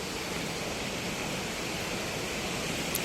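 A waterfall beside a mountain road in Nepal pours in a constant broad rushing roar, steady and unbroken throughout with no other sounds rising above it.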